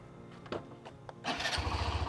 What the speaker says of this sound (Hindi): सिंगल अटेम्प्ट पे स्टार्ट हो गई और बाइक स्टार्ट होती है